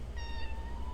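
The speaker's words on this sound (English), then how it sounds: "cats are definitely testing their limits today" A cat meows once indoors, a short, fairly quiet call over a low steady background hum, with no talking.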